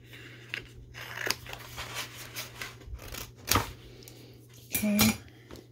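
Scissors trimming out a piece of paper while making a spring greeting card, a few short crisp snips and rustles at close range with no talk, over a steady low hum.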